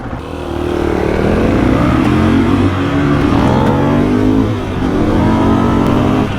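A 2021 KTM 500 EXC engine revs hard and holds a loud, steady, close-up roar through a wheelie, then eases slightly and picks back up.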